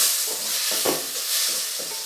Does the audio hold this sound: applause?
no